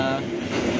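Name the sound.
Bogowonto economy passenger train running, heard from inside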